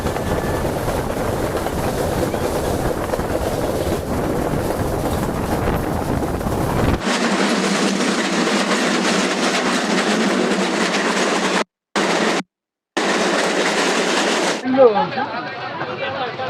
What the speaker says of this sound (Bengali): আমাদের ট্রেনটি পাংশা রেলওয়ে স্টেশনে আসলো বারোটা বেজে বারো মিনিটে